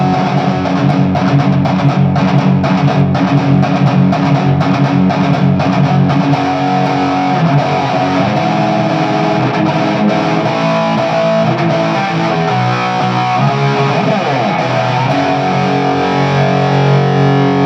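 Loud, heavily overdriven electric guitar through an Egnater Vengeance amplifier, chugging and ringing chords continuously, with a thick gritty amp tone filling the whole stretch.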